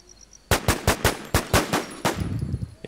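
Rapid gunfire from a gun in the video game War Z, about ten sharp shots in an uneven burst, loud and close, with no talking over it.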